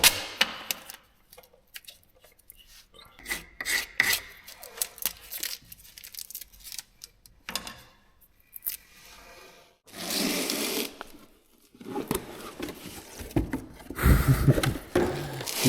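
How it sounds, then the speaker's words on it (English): Threads on Mercedes Sprinter front axle brake components are cleaned, with close, irregular metallic scraping and brushing, bursts of harsh wire-brush noise and occasional clinks, no talk. "I clean those threads."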